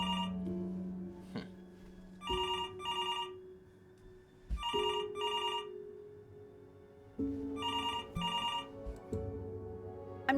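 Telephone ringing in the video game Before Your Eyes: four bursts of a bright electronic bell trill, each roughly a second long, sounding over a low sustained musical drone and scattered soft game tones.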